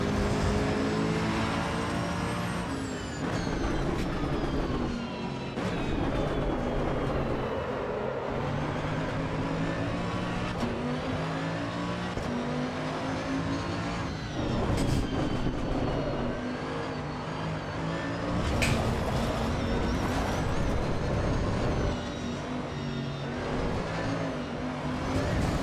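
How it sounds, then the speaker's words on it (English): Racing car engine in the Assetto Corsa EVO driving game, sliding through corners, a continuous loud droning whine that rises and falls with revs and gear shifts across the whole stretch, with no talking. "Car's sliding quite much."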